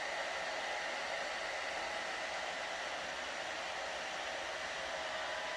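A hair dryer drying curly hair blows with a constant, even whooshing roar, steady and unbroken throughout, fairly close, with no talking.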